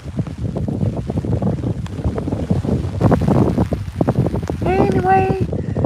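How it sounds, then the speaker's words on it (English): Wind gusting outdoors on a Middle Tennessee outing, buffeting the microphone in a loud, continuous rumble with a brief voice near the end. "Anyway, the wind blows."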